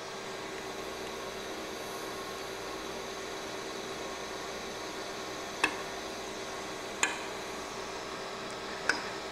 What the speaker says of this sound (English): You can hear the click and see the light go out as each range is disengaged